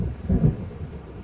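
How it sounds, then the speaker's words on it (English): A low thunder rumble rolls through a stormy scene in the video game Alan Wake, swelling briefly and then fading under a steady wash of rain, with no talk. "It seems there's a storm coming."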